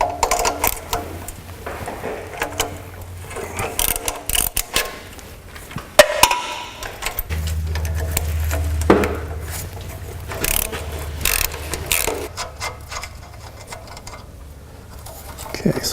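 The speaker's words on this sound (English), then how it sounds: "Now we need to remove the 2 bolts for the hanger." A wrench works the exhaust hanger bolts on a 2006 Toyota Camry in irregular bursts of metallic clicking and scraping, close by, with intermittent talk.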